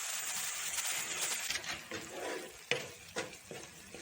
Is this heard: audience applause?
no